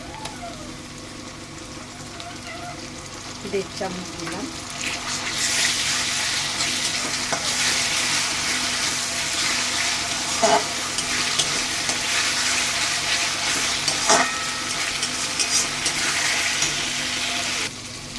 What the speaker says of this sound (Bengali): আদা রসুনটাও ভাজা ভাজা হয়ে গেছে